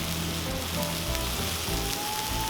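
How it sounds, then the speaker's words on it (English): St. Louis cut spare ribs sear on a hot Cuisinart 360° griddle, giving a steady, close sizzle and crackle with a low hum beneath, unbroken throughout. "Sear these up a little bit."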